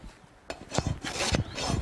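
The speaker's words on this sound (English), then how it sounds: "the rasp is sort of leveling out the high spots and taking off the" A rasp filing a horse's hoof during a barefoot trim gives a few short, soft rasping strokes, quiet and close, with no talk.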